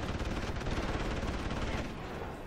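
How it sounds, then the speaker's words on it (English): Rapid gunfire in the video game Deus Ex: Human Revolution, a dense, continuous burst of shots with heavy low rumble, fairly quiet in the mix and fading slightly near the end. "There's gunfire."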